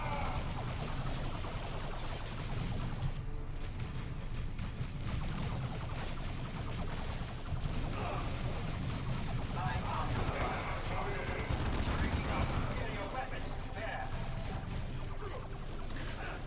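Gunfire and explosions crackle in dense, overlapping bursts during a close-combat battle in the video game Dawn of War 2, with shouted voices over the din.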